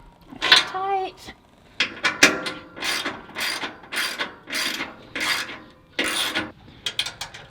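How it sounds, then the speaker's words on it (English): A ratchet with a 13mm socket tightens bolts on a Toyota Tundra hybrid catalytic converter plate, with a series of close, crisp clicking strokes in repeated bursts. "take your 13mm socket and these 4 bolts right here where the plates connect and the ones back here, you're going to go ahead and tighten those up"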